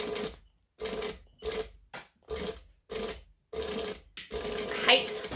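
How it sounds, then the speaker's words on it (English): A sewing machine back stitching through vinyl runs in a series of about eight short, rapid bursts separated by brief pauses, close and fairly loud, with the last burst running longer. "back stitching on vinyl with this machine"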